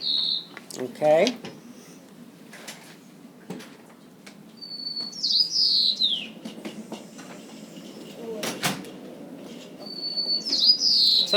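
A white-crowned sparrow sings two clear whistled phrases ending in buzzy trills, spaced several seconds apart, with a brief chirp near the start and light rustling noise between.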